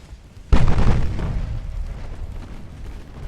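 Torpedo hits in the naval combat game Ultimate Admiral: Dreadnoughts: one sudden heavy boom, then a long rumbling roar that slowly fades, with no talk.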